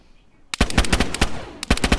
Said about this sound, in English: I'm just gonna shoot his ass.